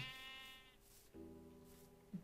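Sheep in the Minecraft modpack Hexxit give two drawn-out bleats, one after the other with a short gap between them. Both are faint and come with no talking.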